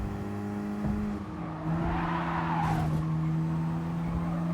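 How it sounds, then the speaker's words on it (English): A car in Gran Turismo Sport braking hard into a skid: steady engine drone, then a rising tire squeal in the middle, with the engine note carrying on after, moderately quiet. "When this car brakes,"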